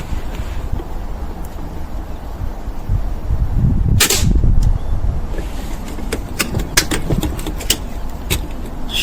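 Gunshots from target shooting at a range, several sharp loud reports at irregular intervals over a steady background of outdoor noise.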